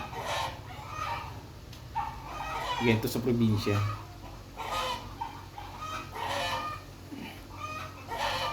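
Chickens cluck and a rooster crows nearby, the calls mixed with someone talking over them.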